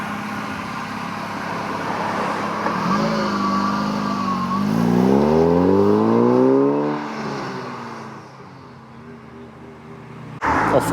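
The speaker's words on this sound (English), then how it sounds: "Off goes the Series 2 RS." A classic Series 2 RS car pulls out of a busy pub car park, its engine rising as it accelerates away past the microphone and then fading into the distance.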